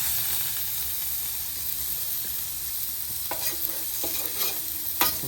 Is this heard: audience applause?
no